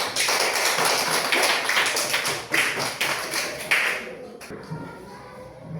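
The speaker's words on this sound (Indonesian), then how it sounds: "Tepuk tangan dulu untuk Tian." Students in a classroom applaud a classmate named Tian, a burst of scattered clapping close by that fades into quieter shuffling and a voice.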